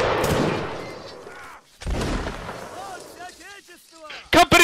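Musket volleys thunder across a Napoleonic battlefield in Mount & Blade: Warband, two long rolling bursts of fire followed by a sharp close crack near the end, with shouted commands between.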